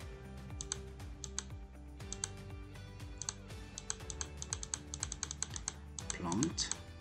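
Typing on a computer keyboard while setting up a thermostat generic function on a pRack pR300 controller, with bursts of quick clicky keystrokes over a steady background hum, close and moderately loud.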